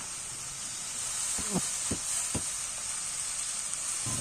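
Fresh spinach sizzles and hisses steadily in a hot wok, with a few soft clinks and scrapes from stirring near the middle, close and continuous.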